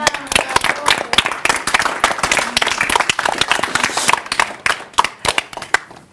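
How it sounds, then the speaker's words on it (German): A school class of fifth-grade children claps loudly and energetically, a dense burst of close, crisp hand claps that thins into scattered individual claps toward the end, with faint voices mixed in. "dürft ihr gerne einmal ganz laut klatschen"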